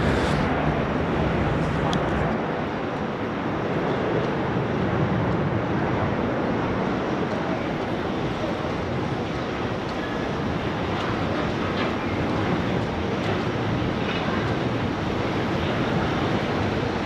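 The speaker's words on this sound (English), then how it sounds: "So Qantas 579, which is a 738, just coming in from Hamilton Island." A Qantas Boeing 737-800 arriving from Hamilton Island lands at Sydney Airport with a loud, steady broadband engine roar that continues without letup for over fifteen seconds.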